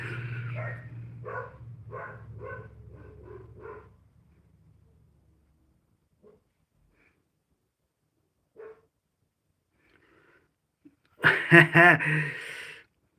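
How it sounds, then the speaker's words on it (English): A dog barks in a quick series of about eight sharp barks over a low hum, then falls quiet; a voice breaks in briefly near the end. "Now you can hear my dog going crazy"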